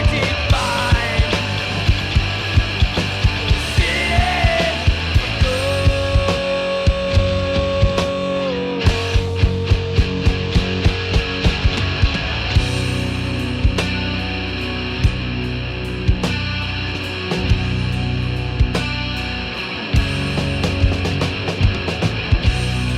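A distorted punk/hardcore track with driving drums, sharp regular hits and grinding guitars playing loud and continuously.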